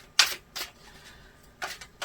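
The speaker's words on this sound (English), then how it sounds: "I will start this reading by shuffling my cards a little bit" A few quick papery riffles and taps of tarot cards being shuffled, in short bursts separated by brief pauses.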